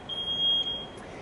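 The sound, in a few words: smoke alarm beeping from a Smart Switch HVAC sensor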